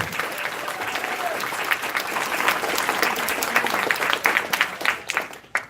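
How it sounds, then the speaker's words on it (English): Sustained audience applause fills a convention closing ceremony, dense and steady throughout, with a few louder, sharper claps standing out near the end as it thins. "Big round of applause."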